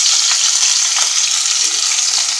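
Fish frying in hot oil, a steady, loud sizzle with a bright crackling hiss that runs without a break, and no voices over it.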